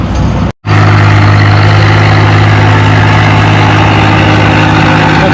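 An International 660 tractor engine at a tractor pull runs steadily with a loud, continuous low drone after a brief cut at the start.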